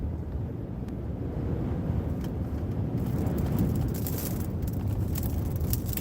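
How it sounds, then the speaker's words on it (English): Strong gusting wind roars steadily throughout as a storm approaches Kearney, Nebraska, a dense low rumble with buffeting against the microphone and no clear voices. "Wind's picking up"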